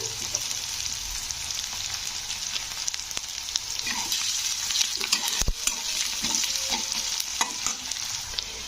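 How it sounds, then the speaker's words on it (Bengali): Onions lightly frying in hot oil with tempered spices for a South Indian-style brinjal and pea curry, a steady close sizzle with frequent scraping stirs of a spoon in the pan, no voices. "তো ফোড়নটা কিন্তু ভাজা হয়ে গেছে এবারে দিয়ে দেবো পেঁয়াজ তো পেঁয়াজগুলো একটু হালকা মতন ভেজে নেব"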